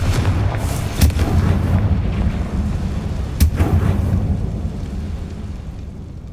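Confringo fire-spell blasts in Hogwarts Legacy boom through a continuous low rumble, with two sharp, heavy impacts standing out in the first half before the roar slowly tapers off, with no voices.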